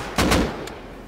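Gunfire from a player in Rust, a short loud double shot close up followed by a fainter pop as it fades.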